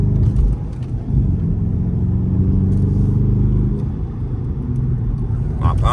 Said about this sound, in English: Driving a Dodge Charger like I don't love my life.